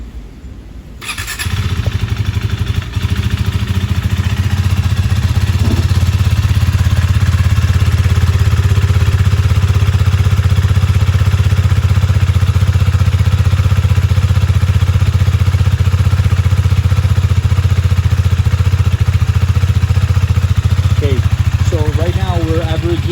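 A Husqvarna Svartpilen 401 with its stock exhaust fires up and settles into a steady, loud, close single-cylinder idle that runs throughout, with someone talking briefly near the end.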